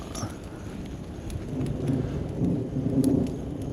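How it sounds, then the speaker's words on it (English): Low rumbling thunder from an approaching storm rolls in at a distance over steady rain, swelling gradually, with no voices. "It's a good thing we're about to get a storm."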